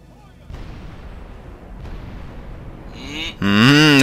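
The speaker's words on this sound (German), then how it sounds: "Jetzt schiessen wir voll aufs Tor dann und dann gehen die Köpfe weg." Siege weapons fire on a castle gate in the video game Medieval 2 Total War, with two dull booming impacts followed by a loud burst of wavering voices or cries from the battle.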